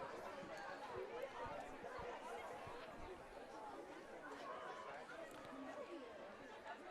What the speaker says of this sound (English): very good crowd here tonight on Youth Sports Night at Kelly Field